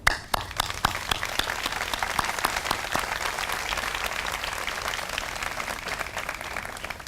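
Sustained applause from a seated audience at the Morgan Park Academy 2016 commencement ceremony, dense steady clapping that begins with a few sharp claps and holds evenly throughout, heard alone without talk.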